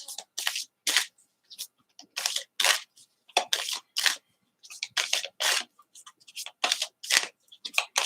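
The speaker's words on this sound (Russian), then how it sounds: "Я сейчас буду выкладывать карты." Tarot cards laid out one by one on a table, a series of short crisp slaps and clicks in uneven clusters, close and fairly quiet with brief gaps between placements.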